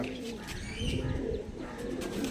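Andhra Madras pigeons coo softly in a low, repeated murmur close by, with faint chirps mixed over a steady background hum and no speech.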